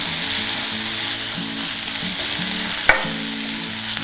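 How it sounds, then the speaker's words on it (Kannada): Onions and greens frying in a pan: steady loud sizzling hiss with a low hum underneath and one sharp clink of a utensil near the end, close up and with no talking. "ಈರುಳ್ಳಿ ಸ್ವಲ್ಪ ಕೆಂಪಾಗಾದ ಮೇಲೆ ಮಿಕ್ಕ ಸೊಪ್ಪನ್ನು ನಾವು ಹಾಕ್ಕೊಳ್ಬೇಕು"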